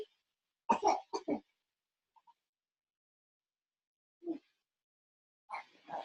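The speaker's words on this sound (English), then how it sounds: "Okay, well, you're coughing, so I'm checking on you." A few short coughs and throat-clearing sounds, a quick cluster at first and then scattered ones, close by, with quiet between them.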